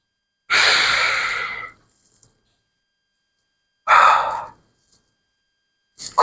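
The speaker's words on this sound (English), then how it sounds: "Big breaths." Big, forceful breaths during a mobility workout, two long loud exhalations a few seconds apart, close to the mic, with a third breath starting at the end and near silence between them.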